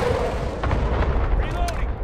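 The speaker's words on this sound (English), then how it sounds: "Allied cluster strike inbound" Cluster strike explosions in Call of Duty Modern Warfare, a loud, dense rumble of overlapping blasts and booms that rolls on without pause.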